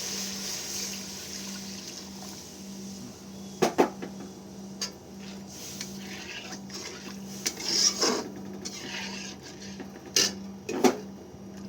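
A metal utensil clinks sharply a few times against a bowl of egg mixture with cornflour, with soft kitchen sounds and quiet gaps between the strikes.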